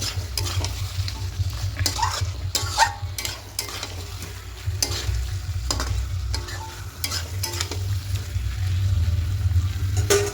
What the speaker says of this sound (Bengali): রান্নাটা সম্পূর্ণ হাই হিটেই করতে হবে, মানে আঁচটাকে বাড়িয়ে করতে হবে। এইভাবে করে আরও 2-3 মিনিট একটু ভালো করে কষিয়ে নেব।